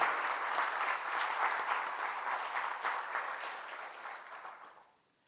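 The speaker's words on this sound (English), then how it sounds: "Can we have a huge round of applause for Sir also?" Audience applause at an MBA batch inauguration ceremony, a dense, steady clapping from a hall crowd that holds for about five seconds before fading out quickly, with no voices over it.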